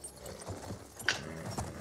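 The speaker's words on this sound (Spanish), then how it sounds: "yo me voy a pillar un caballo" Horse hooves clopping in the Battlefield video game, a few uneven hoof strikes building toward the end over low background game noise.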